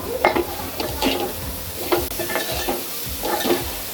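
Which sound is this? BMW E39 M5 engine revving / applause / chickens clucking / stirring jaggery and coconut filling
stirring jaggery and coconut filling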